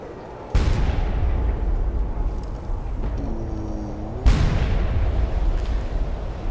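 Heavy gunfire from massive guns in the video game Fallout 3, with two loud booming blasts ringing out near and alone, each followed by a rumbling roar that lingers between the shots.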